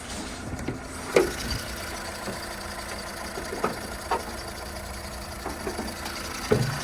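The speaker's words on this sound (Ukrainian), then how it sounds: "Двигун працює чітко, кришечку притягує." A Skoda Fabia engine idling steadily, heard up close with a low, even hum and a few brief louder knocks or clicks spaced through the clip.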